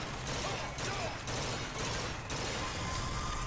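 Gunfire in Bioshock Infinite crackles in dense, loud bursts of rapid shots with short gaps, a chaotic fusillade close by throughout.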